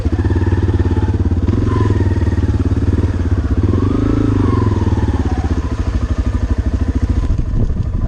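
Motorcycle in first gear, a close, loud engine chugging in a rapid pulsing rhythm that rises and falls slightly in pitch as it rides through flooded streets after Hurricane Harvey in Katy, Texas, with no talk.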